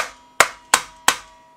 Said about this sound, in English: You might wonder why I use a brass hammer.